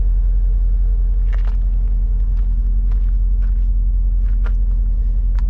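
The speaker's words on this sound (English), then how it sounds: "Dual exhaust, we'll go ahead and give those a listen." A 2015 Porsche idles through its dual exhaust with a low, steady rumble, close and continuous, with faint clicks and shuffling on top and no talking.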